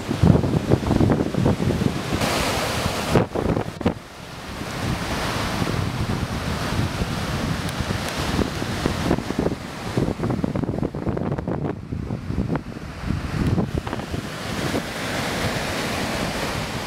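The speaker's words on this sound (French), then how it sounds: "Alors, bon bain, mais attention, la mer est dangereuse." Sea waves on a Sri Lanka beach, a constant loud roar of surf with heavy wind buffeting the microphone throughout.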